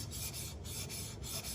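Worn bearings in an aftermarket clutch on a John Deere 111 riding mower make a rhythmic scraping, grinding rasp that pulses about every half second, close and fairly quiet.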